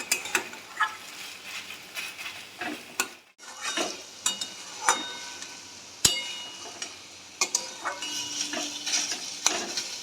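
A spatula stirs chopped banana stem with ash gourd leaves in a pan for a traditional Bengali vegetarian dish. Close, irregular scrapes and clicks with a faint sizzle underneath, and no voices.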